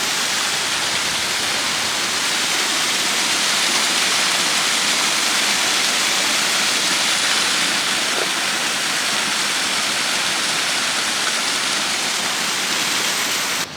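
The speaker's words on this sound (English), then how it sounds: "It's another Nebraska waterfall." A man-made waterfall in Ponca State Park, Nebraska roars as a steady, loud, broadband rush of falling water, continuous and unbroken with no voices.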